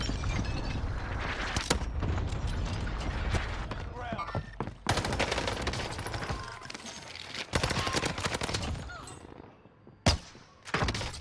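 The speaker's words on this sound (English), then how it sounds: "I just sniped somebody out there." Gunfire from Call of Duty: Warzone on Rebirth Island crackles in a busy firefight, with sharp shots, bursts and thuds that come and go, mixed in with game effects.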